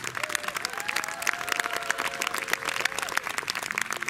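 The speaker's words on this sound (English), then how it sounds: "big round of applause for Kamuela Kimokeo and Jerry Santos" Steady applause from a crowd, dense clapping that holds at an even level throughout with no pauses.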